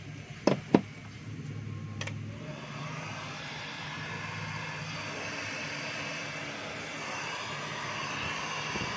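A Stanley STEL670 heat gun runs with a steady whooshing fan roar, preceded by a couple of sharp clicks as it is switched on, close and continuous with no talk.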